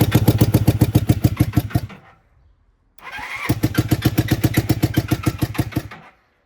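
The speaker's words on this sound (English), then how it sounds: "Let's see if we can get running." A 1979 Honda CB250N twin-cylinder motorcycle from a barn find cranks with rapid, even chugging pulses for about two seconds, falls silent, then cranks again for three more seconds without settling into a steady idle.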